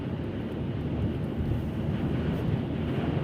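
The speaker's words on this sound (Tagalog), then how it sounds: "Grabe ang lakas ng hangin dito guys." Strong Canadian wind roars steadily, buffeting the microphone with a heavy, low rumble that barely changes for the whole stretch, with no voices over it.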